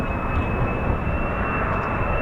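F-15 and F-35 fighter jets landing at RAF Lakenheath, a loud, steady, broadband jet engine roar with a thin high whine running through it, close and continuous.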